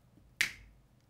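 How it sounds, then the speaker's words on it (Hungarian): A single crisp finger snap, sharp and close, standing alone against a quiet background and fading quickly. "Hát csettintettem egyet"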